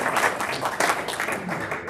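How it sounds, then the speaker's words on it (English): A round of applause from an audience after a performance at a feedback session, a full, continuous burst of many hands clapping, loud and even throughout. "Again, round of applause."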